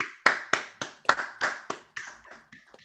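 Sparse, uneven claps from a small online audience applauding a university debate team, about eight distinct hand claps over three seconds, each sharp and quickly decaying, with no talking.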